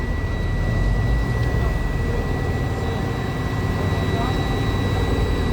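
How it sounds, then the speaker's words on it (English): A vehicle engine, likely a truck, runs with a loud, steady broadband rumble and a faint whine; the pitch holds constant throughout with no clear rise from the accelerator. "As I turn on my vehicle, I'm going to go ahead and press my accelerator"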